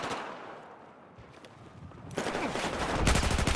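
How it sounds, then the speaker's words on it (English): Rapid SG553 rifle fire rattles in an 8v8 competitive shooter match, starting faint and growing denser and louder into sustained bursts of close automatic shots. "Will he manage to land a couple of shots here on the point?"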